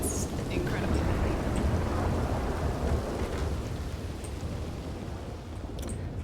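Thunder rumbling over steady heavy rain in a RedM WildRP roleplay game, a continuous loud wash of rainfall with deep rolling low end throughout.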